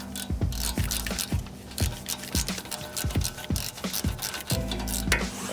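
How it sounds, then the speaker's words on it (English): A ratchet loosens the 12 mm caliper bracket bolt on a third-generation Toyota 4Runner during a front brake job, giving a fast run of close, sharp metallic clicks with a few short pauses. "we're gonna go ahead and loosen the bracket by removing this bolt here"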